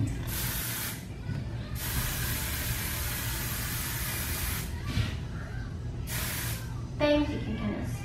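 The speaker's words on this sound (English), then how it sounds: "I do that good and spray it." Hairspray hisses from an aerosol can onto a braided bun pigtail hairstyle in several long continuous bursts separated by short pauses, close and loud, with a brief voice near the end.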